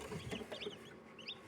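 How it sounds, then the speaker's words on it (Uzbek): Newly hatched chicken chicks cheep in an incubator, a faint, busy patter of small overlapping chirps with no talk. "bugun mana jo'jalar ochyapti"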